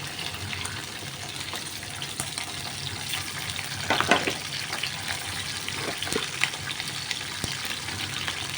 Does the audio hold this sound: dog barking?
no